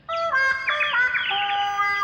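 Cartoon birds chirp and tweet in a bright, layered chorus of short whistled calls, several overlapping voices close and clear, heard alone without talk for about two seconds in a Ninja Hattori animated scene.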